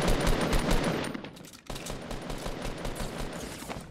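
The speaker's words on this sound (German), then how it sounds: "Schon wieder, auf mich wird geschossen." Gunfire aimed at the player in Fortnite, sustained rapid bursts through most of the span with a brief lull midway before shooting resumes, fairly loud and close.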